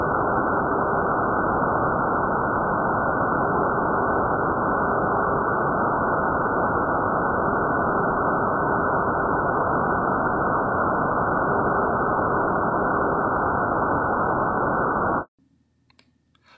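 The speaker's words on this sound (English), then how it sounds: "And now I play the tone with the noise." Binaural masking level difference demonstration: a steady, loud band of masking noise fills the clip, with a faint pure test tone pulsing underneath it about four times before the noise cuts off.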